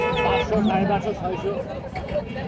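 Chickens clucking amid a busy Mirpur poultry market in Dhaka, where native and layer hens are sold, with dense overlapping bird calls under steady crowd chatter and voices close by.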